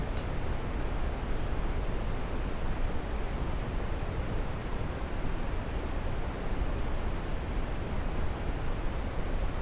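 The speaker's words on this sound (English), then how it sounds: "letting the sound of the waterfall surround you like a gentle blanket" A waterfall pours in a constant, dense rush of broadband water noise, steady and unbroken for about ten seconds with no voices or other sounds.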